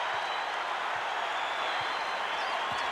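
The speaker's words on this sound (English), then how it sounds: "That'll get a rise out of the crowd." Basketball arena crowd at an NBA Finals game, Pistons at Lakers, roaring steadily after a finger roll, a broad sustained cheer with scattered applause filling the whole moment.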